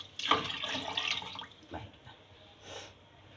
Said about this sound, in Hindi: ये हमने 3 गिलास पानी डाला इसमें